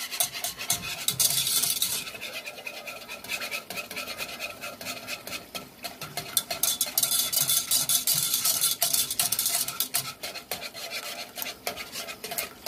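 A spoon scrapes and swishes around a pot as pectin dissolves for yucca petal or sunflower jelly, a rhythmic, fairly close stirring rasp that runs throughout.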